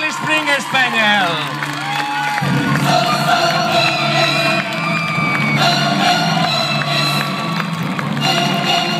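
Crowd at an outdoor summer night dog show cheers and applauds the English Springer Spaniel named Supreme Best in Show winner, loud whoops and clapping swelling after a brief announcement and continuing steadily.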